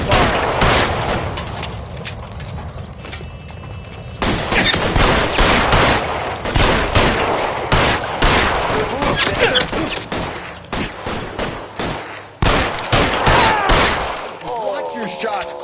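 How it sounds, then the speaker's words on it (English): Suppression gunfire in the video game L.A. Noire, with sustained bursts of rapid shots and heavy reports filling the scene continuously, layered under game dialogue and shouting. "I'll lay down some suppression fire."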